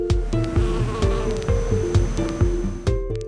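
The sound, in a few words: bees buzzing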